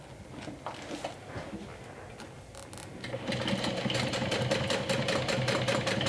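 A sewing machine stitches a handle onto a swim tote, running quietly at first and then picking up into a louder, steady, rapid whir of needle strokes with a faint ticking rhythm.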